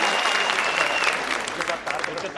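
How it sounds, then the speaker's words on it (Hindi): A kavi sammelan audience breaks into loud, sustained applause, a dense wash of clapping that fills the space and tapers slightly toward the end, with no voices rising above it. "अगर आप लोग भी चाहते हैं कि मैं चार पंक्तियां इन्हें सौंपूं तो एक बार जोरदार तालियों से मुझे बताइएगा"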